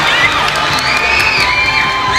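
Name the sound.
crowd cheering at a boxing match, Bohol Cultural Center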